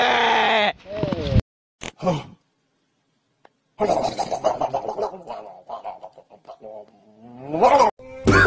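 Several loud, wavering bleats from a nearby female goat, broken by short pauses, with voices talking in between and overlapping the calls.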